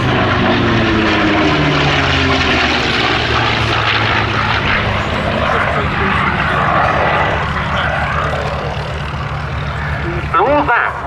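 A North American P-51 Mustang with an Allison V-1710 engine flies past at an air show, a loud sustained propeller engine drone that shifts in pitch as it passes, with an announcer talking over it.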